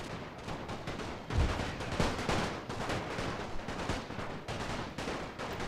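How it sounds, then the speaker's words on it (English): Dense, continuous rattle of machine-gun and rifle fire in a WWI multiplayer battle game set during the invasion of Serbia, with overlapping shots near and distant and a few heavier blasts, all without talk. "Concentrate fire on the enemy machine guns."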